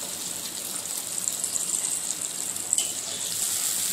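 Water poured into a pan for pomfret mustard curry, a steady close hissing gush that runs without a break and thickens slightly toward the end, with no talking.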